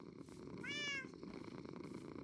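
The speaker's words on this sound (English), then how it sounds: "Oh, he's purring." A cat in the Minecraft video game gives a single brief purring, mewing call, moderately loud and clear over a low steady game background hum.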